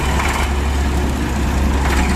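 A tractor engine runs with a steady, loud, low chugging drone that holds constant and close, with no voices over it.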